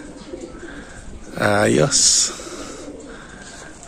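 Racing pigeons give one short, throaty cooing burst up close, while someone speaks briefly nearby.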